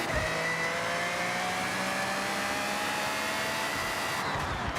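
Car engine held at full throttle in the Forza Horizon video game, a loud sustained drone with pitch slowly shifting as it accelerates, continuous throughout.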